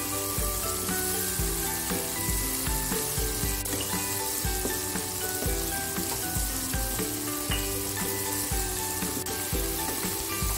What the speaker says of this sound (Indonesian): Kita tumis sampai aromanya harum dan bumbunya matang ya